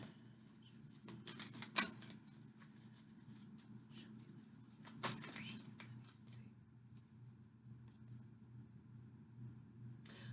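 Tarot cards being shuffled by hand, faint soft riffling and shuffling bursts in short irregular clusters, quiet and close.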